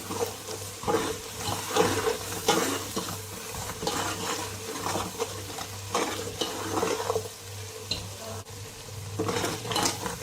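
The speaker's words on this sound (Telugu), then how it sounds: "ధనియా పౌడర్ ఇవన్నీ వేసి బాగా మిక్స్ చేసుకున్నాము. మసాలా బాగా వేగాలి." Biryani masala with coriander powder fries steadily in a pan, a continuous close sizzle broken by repeated scraping and stirring strokes of a utensil against the metal.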